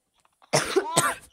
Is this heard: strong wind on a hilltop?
no